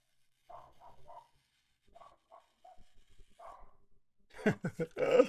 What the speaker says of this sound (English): I think my dog wanted to put his 2 cents in.